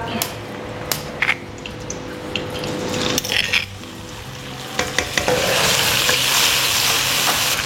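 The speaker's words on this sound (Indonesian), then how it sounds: "Sekarang kita akan tumis minyak." Ground chili paste sautés in hot oil in a pan, a loud close sizzle swelling over the last seconds, punctuated by sharp scrapes and clinks of a utensil stirring against the pan.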